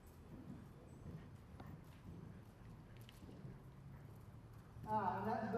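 A horse canters in a three-beat rhythm, hoofbeats soft and fairly distant under a low, breezy background, growing louder and closer in the final second.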